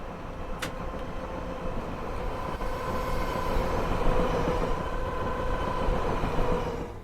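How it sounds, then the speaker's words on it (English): A Class 465 electric train on the Chatham Main Line in Train Simulator Classic runs with a steady motor whine and sustained tonal hum over rolling wheel and rail rumble. One short sharp squeal comes early on, and the train builds slightly louder midway. "the motors on this train are just fantastic. It's music to your ears."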